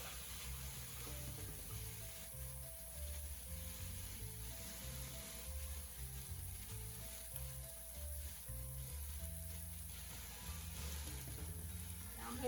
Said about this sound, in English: So now we're going to add back in our shrimp.